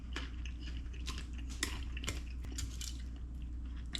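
Crispy fried Cantonese noodles are bitten and chewed up close, with irregular crunchy crackles and moist chewing bursts repeating over a soft background, no talking.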